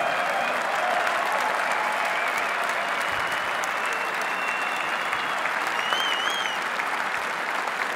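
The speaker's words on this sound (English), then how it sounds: "you guys deserve a huge round of applause." Sustained applause from an audience at a live awards ceremony, honouring 60 judges as they stand, steady dense clapping throughout with faint crowd noise.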